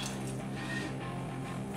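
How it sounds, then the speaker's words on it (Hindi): Three cups of water poured into a pot of tomatoes for creamy tomato soup, a continuous soft splashing gush, close and fairly quiet with no speech. "मैं 3 कप पानी इसमें डाल रही हूँ।"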